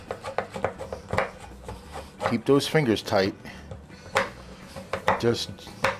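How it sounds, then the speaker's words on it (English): A kitchen knife chops a block of no-sugar baker's chocolate on a board, making repeated quick taps and scraping rubs close up, while a person talks throughout. "So we're going to chop, now I could put this in the blender too, but I'm going to do it with a knife like this."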